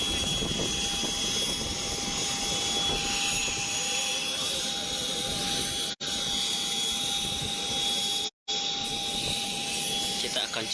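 A plane waits to fly a patient from Jambi to Jakarta, its engine a steady loud roar and whine with a constant tonal hum, continuing throughout with two brief dropouts.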